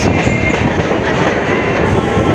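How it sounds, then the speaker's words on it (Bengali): A Kolkata Circular Railway commuter train runs past close by, a loud, steady rolling roar of wheels and carriages with faint rhythmic clatter throughout, no voices. "গাড়ির সাথে ট্রেনের রেস"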